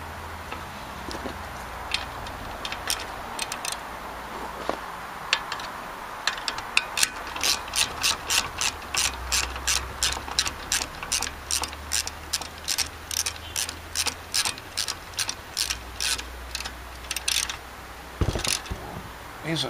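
A 1/4 inch drive ratchet snugging a bolt on a Generac carburetor, steady quick clicking strokes in repeated bursts, close and fairly quiet against a faint hum, with no voices.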